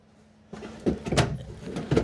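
Pull-out drawers in a Newmar Ventana 4068 motorhome bedroom glide shut with soft-close dampers, giving a few muffled thumps and slides at close range with no talking.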